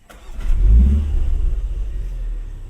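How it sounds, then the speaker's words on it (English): A 2025 MINI Cooper JCW's 2-liter inline-4 fires up close by, a quick crank then a deep exhaust rumble that swells and settles into a steady idle. "the 2-liter inline 4 comes to life, and it has that nice exhaust sound to it when you start it up"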